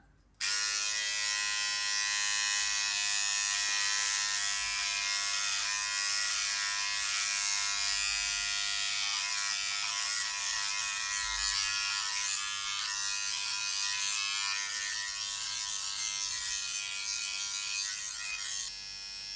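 A Philips Body Groomer 3000 electric trimmer fitted with a 3mm comb buzzes steadily and close up while trimming underarm hair. The high, bright whine holds continuously, with slight shifts in tone as it drags along the skin.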